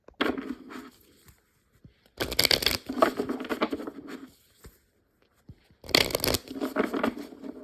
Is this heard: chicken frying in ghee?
no